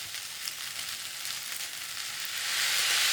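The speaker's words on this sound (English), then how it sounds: "get the rice frying in there" Rice sizzles and fries steadily in a pan with chicken and egg, a continuous close hiss that swells louder toward the end, with no talking.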